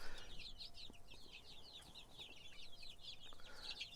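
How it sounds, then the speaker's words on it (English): Pastured egg-laying chickens cluck in quick, repeated bursts, fairly quiet and close by, with a soft background hiss and no talking. "These are how our chickens live."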